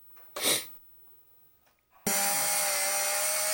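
A Hyper Tough power tool, a handheld drill-driver, whirs on loudly and runs steadily for the last stretch after a brief rustle and a soft breathy burst near the start.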